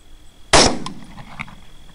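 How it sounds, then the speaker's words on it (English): A single sharp rifle shot rings out during a night thermal varmint hunt for a skunk, a sudden loud crack with a brief decaying tail, followed by faint small knocks. "it starts to move a little bit, and I'll take the follow-up shot here"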